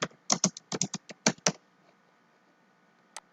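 Typing on a computer keyboard: a quick run of about a dozen sharp, close key clicks, then quiet, then one final isolated keystroke.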